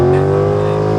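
Naturally aspirated Mercedes C63 AMG held at high revs on a dyno, a loud, sustained engine howl with steady harmonic tones and no break.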